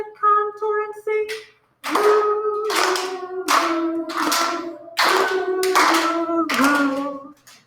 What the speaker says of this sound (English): Ready, clap the contour and sing